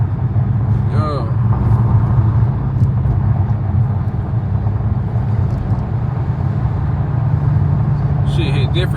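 A Dodge Charger Scat Pack cruises with no music playing, its low engine and road rumble steady throughout from inside the cabin.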